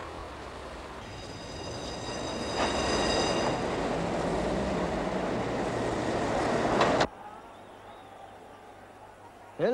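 A tram (šalina) rolls past in a Czech vineyard village setting, a rising rumble of wheels with a faint squeal that swells, holds for several seconds and cuts off abruptly to quiet.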